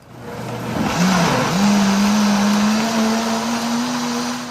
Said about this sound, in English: I'm gonna set this on the blender.